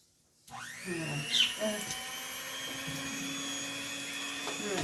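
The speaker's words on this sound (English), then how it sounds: "this mixer isn't that noisy" An electric stand mixer kneading dinner roll dough switches on after a brief silence and settles into a steady, moderately loud motor whine with a slight rise at first, alone without speech.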